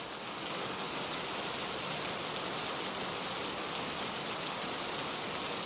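Steady, dense rain falls without pause, a broad hiss of drops on surfaces with no other sounds.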